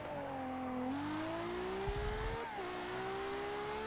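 A race car in Forza Motorsport 6 accelerates hard, its engine note climbing steadily through the gears with a brief dip at a shift, loud and continuous.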